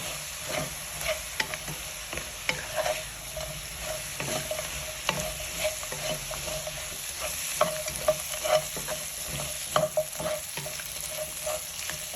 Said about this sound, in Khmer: ខ្ញុំបន្តរំលីងសាច់មាន់នេះមួយសន្ទុះទៀតដើម្បីឲ្យគ្រឿងទាំងអស់នោះវាបានរលាយនិងជ្រាបចូលទៅក្នុងសាច់មាន់បានល្អ